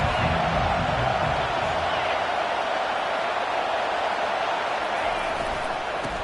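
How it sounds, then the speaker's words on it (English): A football stadium crowd in the College Football 25 video game makes a steady, dense roar throughout, with commentary voices running over it. "This crowd trying to make life miserable for this offense."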